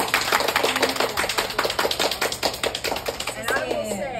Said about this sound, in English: Can I get applause one more time?